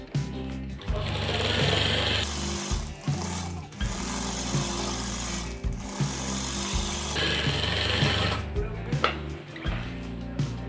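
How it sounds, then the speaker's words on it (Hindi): A sewing machine stitching the edge of a shirt sleeve runs in loud, continuous mechanical bursts with brief pauses between runs, close up, and no talking. "इसी तरीके से हम ये वाली आस्तीन को किनोर की सिलाई लगाएंगे।"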